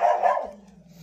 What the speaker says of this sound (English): Sorry about the dogs, apologize.